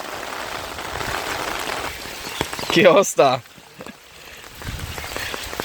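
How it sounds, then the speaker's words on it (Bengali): Heavy rain pours steadily as a dense, broadband hiss that carries throughout, with a brief spoken phrase cutting in near the middle and the downpour swelling slightly louder toward the end. "আস্তে আস্তে কত জোরে বৃষ্টি চলে আসছে দেখেন"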